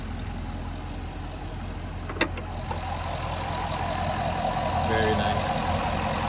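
A 2019 Chevrolet Camaro 2SS with an LS V8 idles steadily close by, a sharp click standing out early on, and the low rumble swells slightly toward the end while a voice speaks over it.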